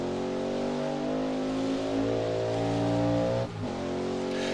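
A powerful, overpowered car revving steadily in a racing video game played on a home-built four-axis motion simulator, with a loud, continuous engine drone that holds pitch and dips briefly near the end.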